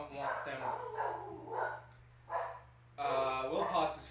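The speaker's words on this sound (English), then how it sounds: "Don't know what they were barking at" Several dogs bark in short repeated bursts at close range, with gaps between volleys and a sharper final flurry, over a steady low electrical hum.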